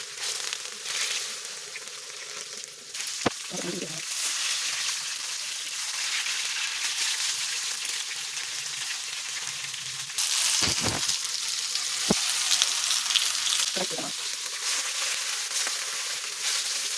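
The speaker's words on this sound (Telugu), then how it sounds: "ఇప్పుడు చేపలు వేయించుకుందాము." Marinated fish fries in a pan under a continuous loud hiss and sizzle, broken by a few brief knocks and scraping handling sounds.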